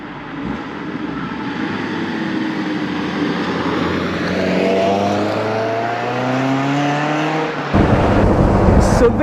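A 1978 Alfa Romeo Spider 2000 Veloce, second-series Spider, driving with its engine climbing and shifting through rising revs, a gear change near the end, heard from inside at moderate loudness.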